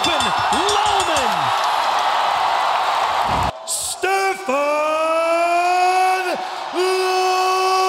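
An arena crowd roars and whoops at the close of an MMA fight, a dense sustained cheer layered with rising siren-like horn wails and brief talk, loud and enveloping, dropping out suddenly midway before the horns resume.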